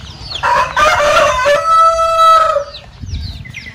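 A rooster crows loudly nearby in one long drawn-out call, with hens clucking softly before and after.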